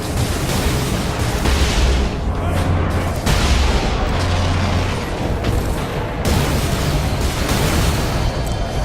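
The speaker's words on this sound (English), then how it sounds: "I shot him in the chest and in the groin with a las cannon." Lascannon blasts and explosions from the Space Marine video game boom and crackle almost continuously, loud and dense, with deep rumbling bursts layered over one another.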